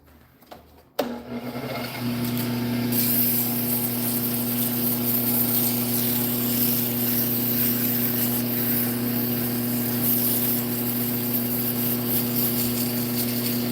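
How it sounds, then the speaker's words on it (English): A woodturning lathe spins up after a sharp click and settles into a steady motor hum with a strong tonal drone, while sanding of the turned piece adds a faint rough hiss over it. "I'm gonna do just a little bit of sanding and then we'll try it"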